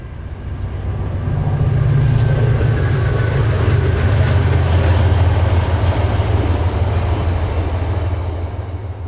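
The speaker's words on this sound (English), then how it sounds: "Here come the trains." A train rumbles past nearby, a loud, steady low roar with rolling wheel noise that swells and then eases off.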